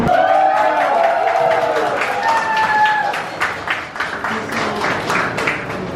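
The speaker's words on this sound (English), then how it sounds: "Give another round of applause" Audience applause at a small business speaking engagement, a dense wash of clapping with some cheering that swells and then thins out toward the end, with a voice speaking over it.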